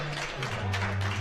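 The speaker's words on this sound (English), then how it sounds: "A smattering of applause. It's unconvinced applause" Light, sparse applause from a small crowd at the 2015 IPC Powerlifting European Open Championships in Eger, men's -59 kg event: a soft, faint patter of hands over a low steady hall hum, brief and unenthusiastic.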